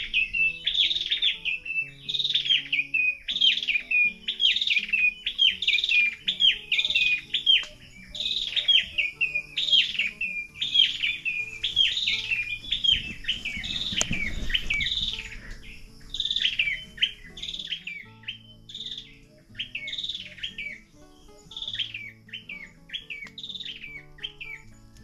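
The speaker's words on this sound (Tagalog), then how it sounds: "Ang dami palang ibon dito sa umaga." Many birds chirping in the countryside morning, a repeated bright whistled song phrase sounding again and again close by over faint low background noise, with no talk.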